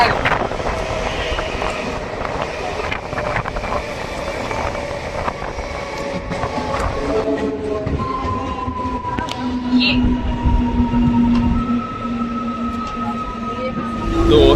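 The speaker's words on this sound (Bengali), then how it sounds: "এই মুহূর্তে ট্রেন হাজিগঞ্জ স্টেশন ছেড়ে গেল" Inside a moving train just leaving Hajiganj station, a steady rumble of wheels and carriage with wind noise runs under a voice, with faint tonal squeals rising near the end.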